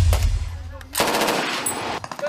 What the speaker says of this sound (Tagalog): Sunod-sunod na putok ng baril ang umalingaw-ngaw sa masukal na bahagi ng Fort Magsaysay sa Palayan, Nueva Ecija